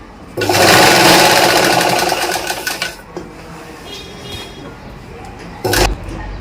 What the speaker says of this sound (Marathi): आता ह्या बाजूने आपण शिलाई मारतोय